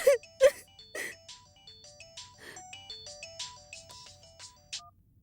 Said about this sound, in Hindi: जानकी फोन नहीं उठा रही है